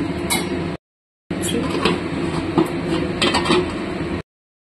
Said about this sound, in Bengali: এবার ঢেকে দেবো।